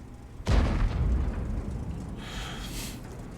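Tank cannon fire in a tank video game: a single heavy boom that rolls off into a long rumbling decay, followed by fainter hissing noise.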